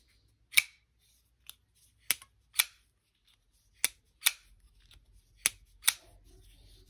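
Sharp metallic snaps of a front-flipper folding knife with dual thumb studs being flicked open and closed, seven crisp isolated clicks at uneven intervals, close and fairly loud against near silence.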